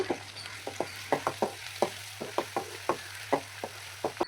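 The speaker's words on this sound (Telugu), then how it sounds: "అల్లం వెల్లుల్లి పేస్ట్ కూడా పచ్చివాసన పోయేంత వరకు ఫ్రై చేసుకోవాలి" Ginger-garlic paste and tomatoes fry in a pan, a soft sizzle running underneath while a spatula scrapes repeatedly in a quick, fairly regular rhythm of close, sharp strokes, with no talking.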